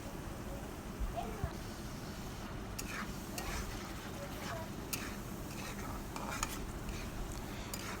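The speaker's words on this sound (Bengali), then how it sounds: "ভাজা ভাজা করে নিচ্ছি মশলার সাথে চর্বি দিয়ে।" Goat fat frying with spices in a pan while being stirred, a low steady sizzle under intermittent scraping and clinking of a utensil against the pan, close and moderately quiet.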